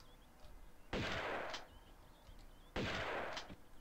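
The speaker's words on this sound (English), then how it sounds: "I want to see if I can skip the level by shooting that shit with the shotgun" Two shotgun blasts fired in the video game The Ancient Jade Mask, each a sharp, full burst with a short ringing tail, spaced about two seconds apart against a quiet background.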